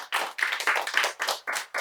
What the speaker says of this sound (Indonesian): Oke, tepuk tangan untuk Lofty and Friends.